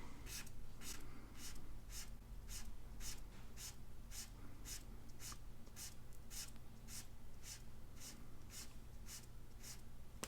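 An Ohuhu brush marker stroking across thin printer paper, a steady run of soft, evenly spaced scratchy strokes, close and quiet, with no talking.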